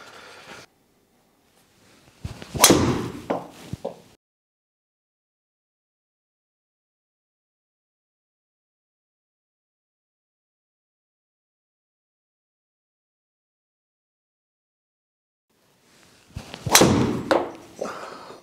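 A golf driver strikes a ball twice with sharp, loud impacts that are separated by a long stretch of silence. Each hit is followed by a brief rattle and trailing noise.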